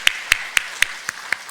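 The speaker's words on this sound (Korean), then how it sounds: "하나님께 박수로 영광 돌리겠습니다." A church congregation claps in praise during a Sunday worship service, six crisp, evenly paced claps ringing out on a steady beat with no voices over them.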